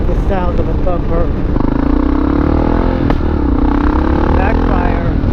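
Kawasaki KLR650 single-cylinder thumper motorcycle engine running on a ride, steady throbbing drone with pitch shifts as revs change, under wind rumble and a voice talking.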